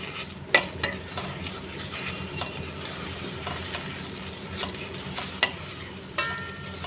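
Gotu kola (vallarai) leaves sautéing in a pan over a medium flame, with soft stirring scrapes and a low sizzle running throughout, punctuated by a few sharp utensil clicks against the pan.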